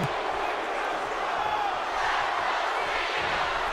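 A roaring wrestling arena crowd in the WWE 2K17 video game, set in Philadelphia during a Kevin Owens versus John Cena match, a dense, steady wall of crowd noise that stays loud throughout with no break.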